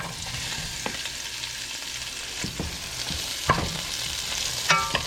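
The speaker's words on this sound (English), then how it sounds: "Got a little olive oil up in it. As y'all can see, she's sizzling." Steady sizzling and crackling of vegetables frying in hot olive oil, close by, with occasional stirring clinks and scrapes.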